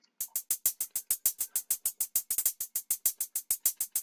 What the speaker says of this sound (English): I made the hi-hats in a pattern to be able to differentiate the pitch of the hits